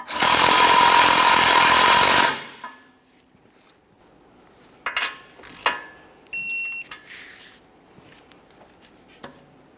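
A power tool snugs a tie rod end nut on a 2015-2019 Subaru Outback, a loud continuous two-second whir that stops abruptly, followed by faint metallic clinks and clicks.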